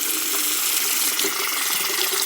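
Water splashes steadily onto a hard shaving soap puck, a continuous close hiss of pouring and spattering with no voices.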